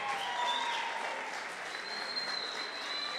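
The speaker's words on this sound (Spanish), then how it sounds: "Un aplauso para Karen." An audience at a race awards ceremony claps steadily and loudly without a break, the sustained ovation filling the scene with a few faint voices mixed in.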